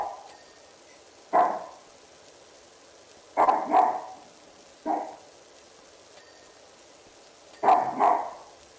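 A dog barks in short separate bursts, a single bark followed by doubled barks, moderately close against a quiet background with gaps of silence between.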